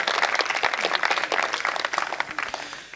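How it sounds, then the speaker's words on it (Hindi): Loud, dense applause from a kavi sammelan poetry gathering audience, many hands clapping in a steady, sustained roar throughout with no break. "मैं चाहता हूं कि आप अपने संचालक के लिए, सिद्ध संचालक के लिए भी एक बार जोरदार तालियां बजाएं।"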